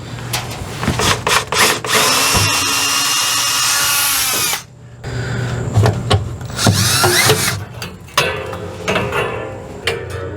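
A power drill backs screws out of the flange of a holding tank under a mobile kitchen or RV, whirring loudly in long steady runs that stop and restart close by, with no talking.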